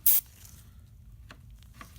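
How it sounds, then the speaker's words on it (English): A short sharp burst of airbrush spray, driven by an air compressor, hisses loudly for a moment while paint is applied to miniature terrain, then fades to quiet background hum with faint clicks. "Alright, so now we're gonna do some airbrushing."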